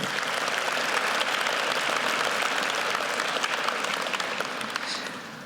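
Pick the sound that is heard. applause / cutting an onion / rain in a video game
applause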